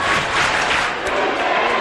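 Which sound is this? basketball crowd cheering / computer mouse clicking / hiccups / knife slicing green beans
basketball crowd cheering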